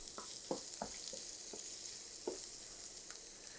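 Onion and onion stalks frying in a pan, a constant bright sizzle with a few soft clicks of stirring, close and even.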